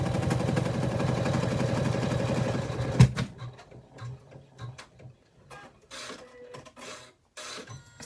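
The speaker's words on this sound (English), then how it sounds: "So we're just tacking down the blue" A sewing machine tacks fabric down on a zipper bag, running steadily and loudly for about three seconds, then stopping with a clunk, followed by quieter scattered handling noises.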